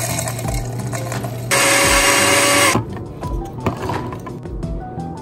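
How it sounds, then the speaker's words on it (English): Blender grinding dry oats into oat flour in a home kitchen, a loud, harsh motor whir that starts abruptly, runs about a second, then cuts off amid surrounding clatter and handling noise. "I'm just gonna grind up some oats and make oat flour."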